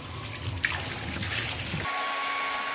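Water runs steadily from a tap while hair dye is rinsed out, a close, continuous splashing flow that cuts off abruptly near the end, leaving a faint hum.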